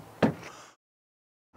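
A pull-out drawer in a 2008 Nuwa HitchHiker Discover America 327 LK fifth wheel camper gives a single soft bump with a short sliding rumble, close by, followed by silence.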